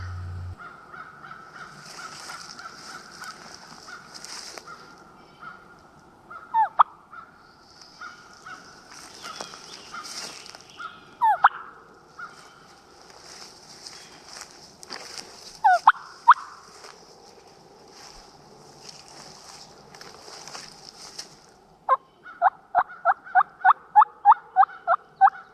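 Wild turkey gobbler in North Carolina woods gobbling several times, distant then closer, with sharp rattling gobbles and bird calls over a quiet outdoor background, ending in a rapid clucking run.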